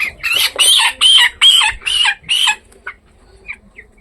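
Chickens at a poultry farm give a run of loud, close clucks and squawks in rapid bursts over the first two and a half seconds, then trail off into a few scattered softer calls.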